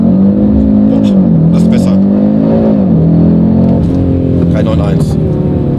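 An Audi RS3 8Y pulls hard on a track at the Lausitzring, its engine a loud, smooth, rising drone with brief dips between gears, heard from inside the car while someone talks over it.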